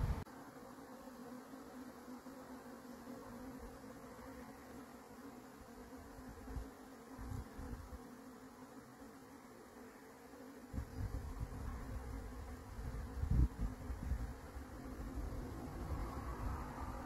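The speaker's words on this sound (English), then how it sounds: "This has to be a swarm, but I don't think it's my bees." A swarm of honey bees gathering in an oak tree outdoors makes a steady, dense low buzz that holds throughout, swelling a little louder toward the end, with no voices.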